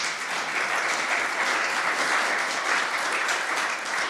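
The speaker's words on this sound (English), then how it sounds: "I think another round of applause is probably" An indoor audience at a church Deanery Synod presentation gives a steady round of applause, a dense wash of many hands clapping that holds evenly throughout with no talking over it.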